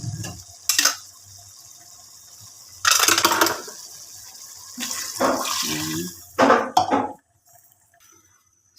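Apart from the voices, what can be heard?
water poured into pot for pork sinigang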